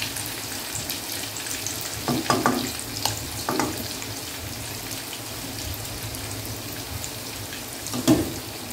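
Tofu frying in hot oil, a steady faint sizzle running throughout with a few louder crackles and pops near the start and end, no talking.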